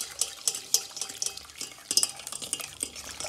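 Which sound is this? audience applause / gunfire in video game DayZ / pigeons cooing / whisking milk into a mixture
whisking milk into a mixture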